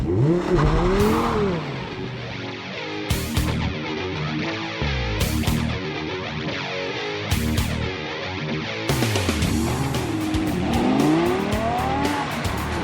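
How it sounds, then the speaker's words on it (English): An Audi R8 V10 sports car drives with a loud, continuous engine roar, rising and falling revs through gear changes and bursts of acceleration, heard up close with no talking. "This week we take a look at the Audi R8, but no ordinary R8. This is the R8 V10."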